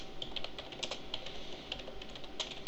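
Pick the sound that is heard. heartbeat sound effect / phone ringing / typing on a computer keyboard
typing on a computer keyboard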